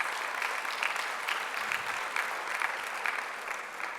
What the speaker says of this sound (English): Let's hear a thunderous round of applause, please.